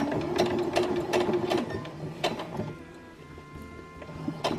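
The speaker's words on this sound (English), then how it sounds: "bring your needle down and start sewing the other side" A sewing machine runs steadily, stitching bra fabric up close with a fast, even mechanical chatter and a few louder ticks along the way.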